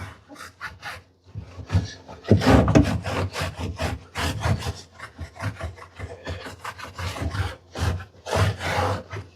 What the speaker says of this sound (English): after 5 or 6 minutes of scrubbing, that's what it looks like now